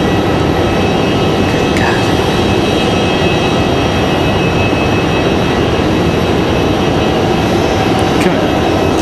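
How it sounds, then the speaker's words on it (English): An Endeavor Air regional jet flying as Delta Connection flight 5120 arrives from Newark at Raleigh-Durham International, a loud, steady broadband engine roar filling the whole stretch without a break. "We do have that Endeavor 5120 coming in from JFK."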